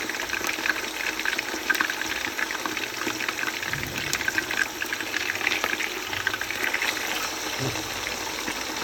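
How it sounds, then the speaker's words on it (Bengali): Chicken pieces frying in hot oil for a Bangladeshi-style roast, a steady close sizzle and bubbling with occasional stirring, no talk. "তো মুরগির রোস্টগুলো ভাজা হয়ে যাচ্ছে।"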